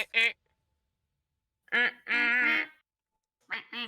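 Three bursts of a voice imitating a duck's quack, nasal and harmonic, close to the mic, separated by silent gaps during a tabletop role-playing game session.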